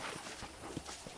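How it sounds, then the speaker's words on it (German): Horse hooves walking in the video game Red Dead Redemption, a steady clip-clop of soft regular steps over a constant ambient background bed, moderately close, no talk. "I picked out a fine horse for you."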